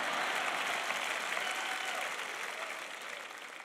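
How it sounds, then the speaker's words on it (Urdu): An audience clapping at a sermon, a thick burst of crowd applause that starts full and slowly tapers in loudness over a few seconds. "اگر تالی بجانا چاہتے ہیں تو بجائے"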